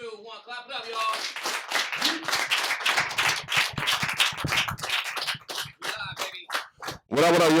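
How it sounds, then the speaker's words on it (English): Audience clapping at a hip hop gathering in the Bronx: a dense, steady patter of many hands that carries for several seconds at moderate loudness, with voices mixed in under it. "Three, two, one, clap it up,"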